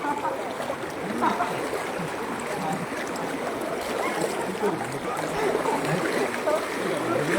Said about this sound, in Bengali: জলের প্রচন্ড স্রোত